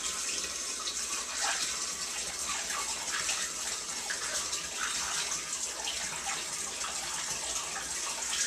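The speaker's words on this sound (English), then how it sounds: "So we'll be sure to add the cold water first." Three gallons of cold, filtered water pour into a carboy while brewing wort, making a steady, close, continuous gushing and splashing that runs the whole time with no talking.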